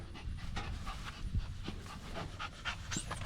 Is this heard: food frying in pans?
no